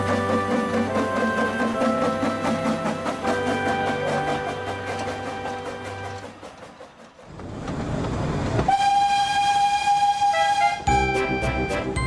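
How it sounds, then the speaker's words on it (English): A narrow-gauge steam engine runs along the line with a steady clattering chug, then after a short lull gives a long, loud whistle toot that rings out over the rolling wheels. "with a toot on the whistle, Skarloey couldn't have felt prouder as he set off back down the line"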